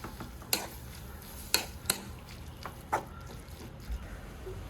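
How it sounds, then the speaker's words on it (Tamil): Minced meat is stirred with oil in a pan, a few sharp scrapes and taps of the spoon over a low, faint sizzle, spaced irregularly and heard close without speech. "அதை ஆயிலோட நல்லா மிக்ஸ் பண்ணிக்கிறோம்"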